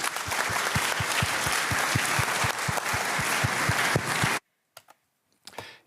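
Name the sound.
applause for a conference panel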